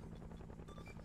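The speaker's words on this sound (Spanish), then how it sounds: "Y tengo un helicóptero en nuestras cabezas." Helicopter overhead in a Vietnam war video game, a steady low rotor drone with a dense rumbling texture, filling a brief moment with no voices.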